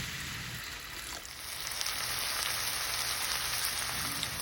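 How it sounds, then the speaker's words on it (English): Ground beef sizzles and crackles in a frying pan with a little water, a soft, steady hiss, fairly quiet and close, with no talking. "We're then going to cook the beef mixture in a frying pan with a little bit of water"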